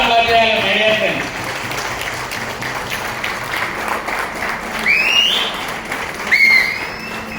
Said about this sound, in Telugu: గ్రాండ్ గా అప్లాజ్ చేయాలి మీడియా ఫ్రెండ్స్